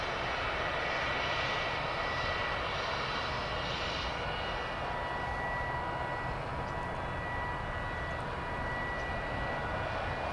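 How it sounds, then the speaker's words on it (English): An incoming UPS cargo jet arriving at DFW Airport roars with a steady, broad jet-engine rumble that stays even and fairly distant throughout, with no voices. "Here we've got an incoming United Parcel aircraft."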